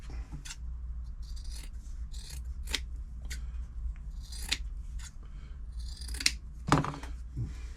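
Scissors snip off threads near a Bernette b35 sewing machine, a series of quiet sharp clicks and scraping cuts spread irregularly over a low background hum.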